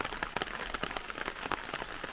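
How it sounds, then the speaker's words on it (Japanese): Steady rain falling by a river just upstream of where it joins Asahikawa Dam, a dense patter of drops striking nearby surfaces with scattered louder taps, close and constant, no talk. "雨がずっと降り続いてるんですけども"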